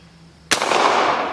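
An 1860 Henry rifle fires a .45 Long Colt round outdoors, one sharp, loud report with a short ringing tail after a quiet moment.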